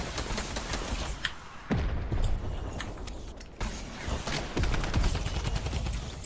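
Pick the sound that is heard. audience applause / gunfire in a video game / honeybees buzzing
gunfire in a video game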